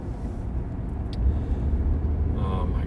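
A steady low road rumble fills a car interior while driving, with constant engine and tire noise, faint and even, and no talk.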